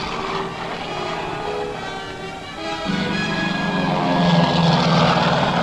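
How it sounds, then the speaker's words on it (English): Propeller aircraft engines drone steadily as RAF planes take off one after another, a broad continuous roar that swells louder and deeper partway through as another machine climbs away nearby. "Plane after plane sweeps gracefully into the sky and down the long air lanes of the world."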